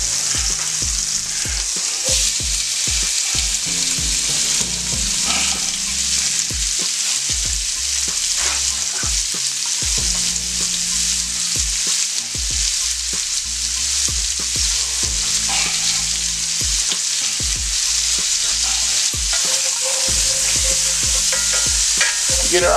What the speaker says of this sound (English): And we're gonna put our onions in here.